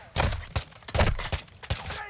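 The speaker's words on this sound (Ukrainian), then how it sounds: "Диві, з вертольота пілери стріляють." Bursts of rapid gunfire from a helicopter in Call of Duty Warzone crack in uneven volleys, loud and close, some shots overlapping with no voices between them.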